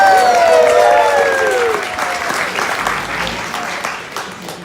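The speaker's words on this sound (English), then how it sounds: "Second, let's clap another round for Jen" Wedding guests applaud the bride during a best man's toast, a loud burst of clapping that gradually thins over several seconds, with cheering voices and whoops rising at the start.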